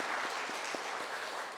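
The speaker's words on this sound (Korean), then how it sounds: "박수 한번 하셔야 될 것 같습니다." A church congregation applauds during a Sunday worship service, a soft, steady wash of many hands heard from a distance, with a few sharper claps standing out and no voices.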